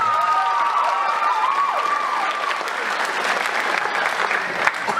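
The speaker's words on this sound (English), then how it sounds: "You can give Lisa a little round of applause." An audience at a school jazz night applauds a trumpet player, steady sustained clapping and some cheering filling the room, with a whistling tone and a brief talking voice mixed in.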